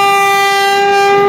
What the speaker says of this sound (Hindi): ये गाइस 85 की स्पीड पर ट्रेन गुजरी है